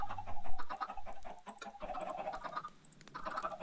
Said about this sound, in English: Those chickens are noisy.